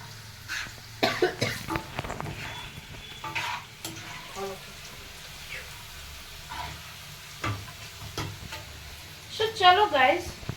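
Pav bhaji masala being stirred through food in a cooking pan, with scraping strokes and soft sizzling interrupted by coughs and throat clearing, fairly close.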